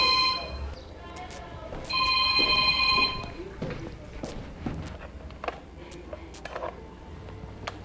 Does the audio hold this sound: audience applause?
no